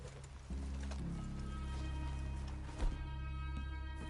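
Horses plod with soft, steady clip-clop hoofbeats in the Red Dead Redemption 2 countryside. The hooves sound quiet and a little distant under a low hum of game music.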